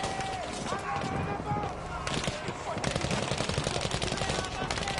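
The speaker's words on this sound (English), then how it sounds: "Oh wait, I got the machine gun" Machine gun fire in the Battlefield V video game, rapid dense bursts running steadily through the whole stretch under a busy battle mix, with a voice talking over it.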